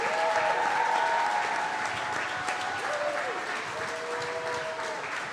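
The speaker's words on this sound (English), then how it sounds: "how about a big round of applause for the rookie here tonight?" A live studio crowd applauds for Packers rookie safety Evan Williams on a sports talk show, a steady wash of clapping with a few whistles and cheers rising over it.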